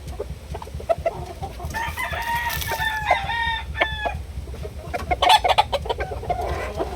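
A one-year-old Kelso rooster in a backyard crows once clearly and nearby, its call surrounded by soft clucks and scattered farmyard bird calls, with no voices.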